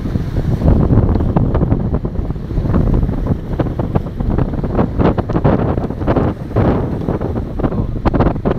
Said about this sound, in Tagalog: Laki ho ng alon.